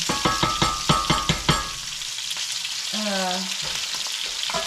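Hash browns frying in a skillet for an egg breakfast, with a steady sizzle and a few sharp clatters of a utensil stirring or scraping early on, then a brief tonal squeak near the end.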